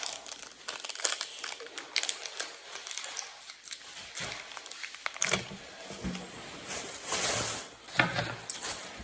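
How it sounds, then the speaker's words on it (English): Crinkling and crumpling of thin foil wrapper on a Pokémon Battle Styles trading card pack as it is handled and opened, an irregular close rustle with scissor-like snips and brief tearing bursts. "let's open up this Battle Styles pack."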